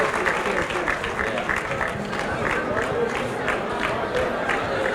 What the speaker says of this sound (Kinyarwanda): amashyi menshi cyane kuri Riderman.